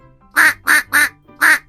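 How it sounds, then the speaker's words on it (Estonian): Four loud duck quacks sound alone in a short even series, each a nasal burst with brief gaps between, set in a children's sound-guessing game. "Jah, part."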